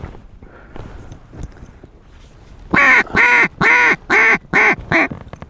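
Ducks quack during a dry field hunt: a run of six loud, evenly spaced, close quacks that stands out over a quiet outdoor background with faint rustling beforehand.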